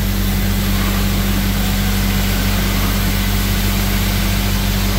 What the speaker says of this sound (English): strip the floor. buffer pad and the acid cleaner